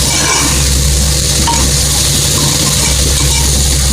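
Keerai greens sautéing in a hot pan, a steady loud sizzle with a spoon stirring and scraping the metal throughout, close and continuous with no voices.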